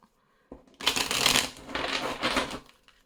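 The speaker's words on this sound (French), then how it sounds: "Je remélange." Tarot cards are shuffled close by in two quick papery riffling bursts, each lasting about a second, with a short pause between them and silence before and after.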